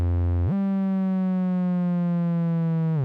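A steady synthesizer tone from a Roland System-8, shaped by an Akai MPC envelope triggered by MIDI, drops in pitch as the note triggers, then holds a sustained, buzzy note for a few seconds before fading off.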